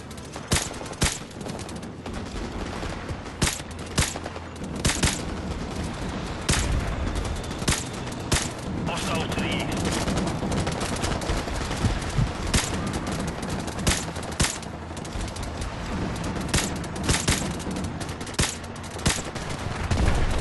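Sniper rifle gunfire in Modern Warfare Remastered, during a village assault mission: a long run of sharp, loud shots at irregular intervals over constant battle noise, each crack close and punchy.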